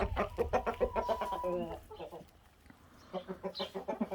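Chickens and a rooster cluck in a coop, with a dense run of rhythmic clucks, then a short lull and a fresh burst of close, moderately loud calls.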